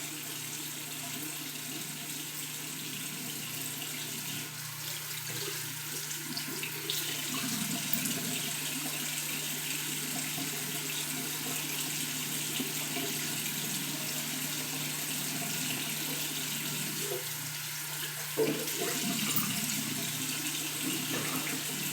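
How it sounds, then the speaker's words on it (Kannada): Tap water runs steadily into a sink during face washing, a constant hissing splash that holds for about twenty seconds, with faint shifts in the flow and no voices. "ನೀಟಾಗಿ ಒಂದ್ಸಲ ಫೇಸ್ ವಾಶ್ ಮಾಡ್ಕೊಳ್ತೀನಿ."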